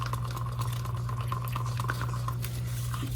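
Colored resin being stirred and mixed in a container by hand, a steady soft scraping and swishing that runs continuously at close range over a constant low hum, with no talking.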